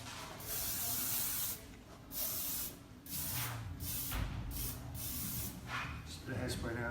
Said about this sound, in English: Just the hairspray now.